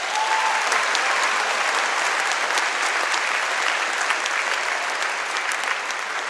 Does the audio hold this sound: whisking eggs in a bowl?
no